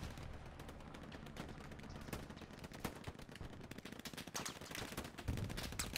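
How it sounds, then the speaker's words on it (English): Dense machine gun fire in the video game Hell Let Loose during a battle, a rapid continuous stream of overlapping shots and bursts that thickens toward the end, loud and close with no speech. "Holy machine guns."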